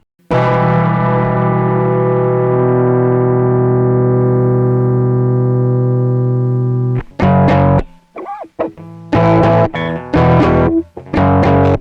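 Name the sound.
guitar with multi-chorus effect on Akai MPC One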